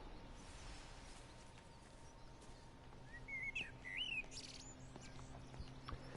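A couple of thin, warbling bird whistles ring out faintly over a steady low ambient hum, brief chirps midway through an otherwise quiet outdoor scene in the video game Everybody's Gone to the Rapture.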